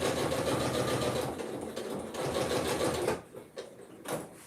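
A sewing machine stitching fabric whirs steadily and close for about three seconds, then slows into a few short bursts with pauses between them.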